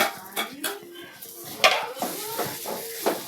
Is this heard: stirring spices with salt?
yes